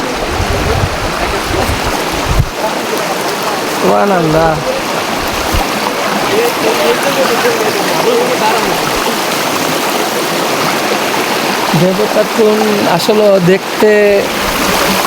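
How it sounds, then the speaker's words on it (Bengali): A mountain stream runs among hills on the way to Devota Khum, its water rushing in a continuous close, loud wash while people talk over it at intervals. "পাহাড়ের মাঝে ঝিরির পানি আসতেছে"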